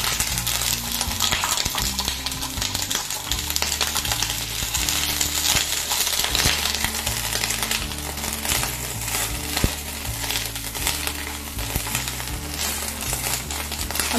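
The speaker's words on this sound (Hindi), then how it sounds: "गर्म होते ही हम इन सभी वेजिटेबल्स को एक एक करके सॉटे करेंगे" Mixed vegetables sizzle loudly on a hot nonstick tawa over high flame, a steady close hiss broken by frequent stirring scrapes and clinks of a utensil against the pan, with no voices.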